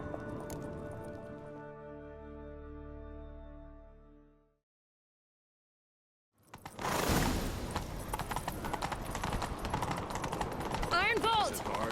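Horse galloping in The Witcher 3: Wild Hunt, a dense run of hoofbeats after a quiet gap, loud and close under a busy game soundscape.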